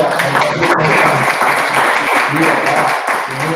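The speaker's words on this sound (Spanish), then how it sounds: "Pues yo creo que podemos dar un fuerte aplauso, ¿verdad?" Audience applause at an education panel discussion with primary school teachers, a steady dense wash of clapping throughout, with some murmuring voices underneath.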